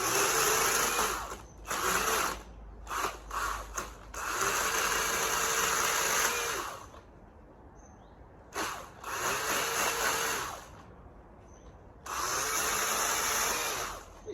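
A Milwaukee Quik Loc pole chainsaw cuts through wood in loud bursts of saw noise, stopping and starting several times with short pauses between cuts and a longer idle gap near the middle.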